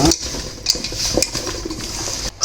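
Metal spoon scraping and clinking against a pot as chilli powder is stirred into sambar, steady and close, with a few sharper knocks.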